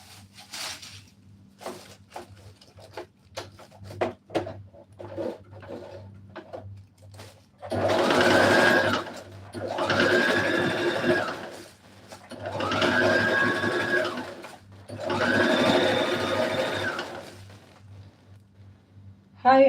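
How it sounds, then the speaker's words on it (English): A sewing machine top stitches a dress made from plastic bags, running in four steady bursts of several seconds each, preceded by scattered handling clicks and rustles close by. "So I'll just join it from here to the back side and top stitch."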